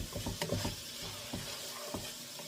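Onions fry in a skillet with hardly any oil, giving a soft sizzle under scattered stirring scrapes and taps from a utensil.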